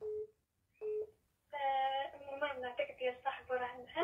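A phone call is dialed and rings through, with two short beeps from the handset before a voice speaks at length over the line.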